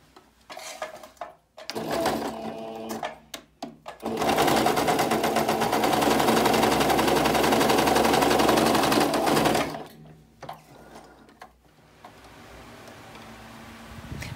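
A sewing machine stitching an American-style piece with a mitred corner: short bursts and stops, then one long steady run of fast mechanical needle chatter, loud and close, with quieter stop-start stitching after and no voices.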